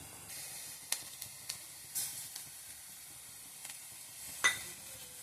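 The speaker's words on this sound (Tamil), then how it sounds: "மிளகு, சீரகம் இதில் பொரியட்டும்" Raw rice, black pepper and cumin seeds fry in hot oil with a soft, steady sizzle and hiss, broken by a few faint crackles and spatters.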